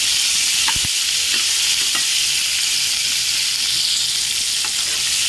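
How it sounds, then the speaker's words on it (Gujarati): Sliced okra frying in hot oil while being stirred, a loud continuous sizzle with a few soft scrapes of the spoon against the pan. "આપણે એમાં ભીંડો નાખી દઈશું। આપણે એને આ રીતના હલાવી દઈશું।"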